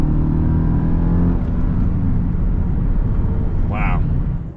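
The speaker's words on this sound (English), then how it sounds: "we're gonna give this car a little bit of gas" A Mercedes-Benz E55 AMG W210 V8 engine revs loudly up close, a deep throaty roar that stays sustained and strong throughout, with a brief higher whine near the end.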